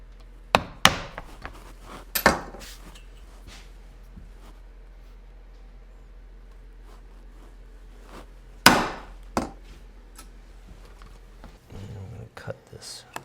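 Cutting the stirrup relief in a western saddle foundation, heard as a few sharp knocks and taps near the start and later, with long quiet stretches between them.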